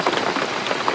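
Heavy rain pours down outdoors beside a stream at a village cooking spot, a dense, steady hiss of drops filling the whole second with no voices.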